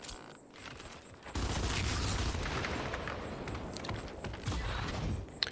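Sustained gunfire in the turn-based tactics game Gears Tactics, a loud dense barrage that erupts after a quieter opening second and keeps rattling without pause to the end.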